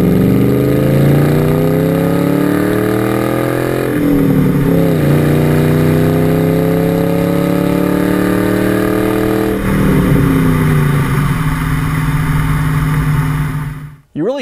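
A 1999 Mustang's Borla stainless steel 2-1/2-inch S-Type cat-back exhaust rumbles steadily with a deep, throaty drone, rising and falling slightly in pitch as the engine revs, loud and close throughout.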